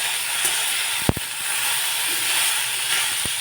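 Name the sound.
bean pods roasting in a pan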